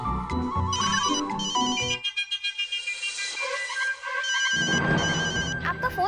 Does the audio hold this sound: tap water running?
no